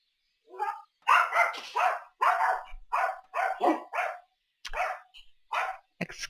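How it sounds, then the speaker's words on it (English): Several dogs, one of them a little Yorkie, bark in quick, sharp bursts close by, with short yips and whimpers between clusters of barks. "excuse the dogs"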